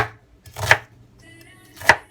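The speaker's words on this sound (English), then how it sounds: "This other is just going to be chopped, ready to while it's all boiling all together." A knife chops soup vegetables on a board in a home kitchen, two sharp separate strikes about a second apart, close and clear against a quiet room.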